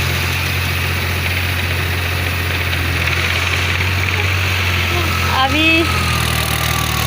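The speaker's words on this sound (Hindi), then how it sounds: "ट्रैक्टर चल रहा है।" A tractor engine drones steadily at a constant low pitch while working a muddy rice paddy field, close and continuous, with a person briefly speaking over it.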